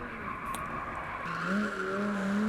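A Lamborghini drifting and spinning in a parking lot, its tires squealing in rising, wavering tones over a steady engine hum, growing louder toward the end.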